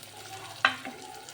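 Chopped tomato dropped into a pan of frying onion and roasted green chilli, giving one brief sizzling burst over a quiet background crackle.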